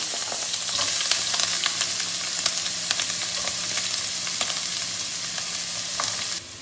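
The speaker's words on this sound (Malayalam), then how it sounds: "ഇഞ്ചി ഒരു വലിയ കഷ്ണം നീളത്തിൽ അരിഞ്ഞതാണിത്. അത് നമുക്ക് ഇട്ട് കൊടുക്കാം." Long slices of ginger sizzle in hot oil in a pan for a Kerala-style liver fry, a steady crackling hiss with scattered pops and stirring, close and continuous until it cuts off near the end.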